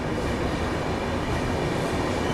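A Rajdhani Express, running from Trivandrum to Delhi, pulls into Kota Junction railway station with a loud, steady, close rumble of rolling rail cars and wheels, with no voices.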